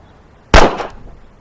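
A single loud gunshot cracks close by during a live fire training run at a K-12 Baptist church school, a sharp report with a short echoing tail after a quiet lead-in.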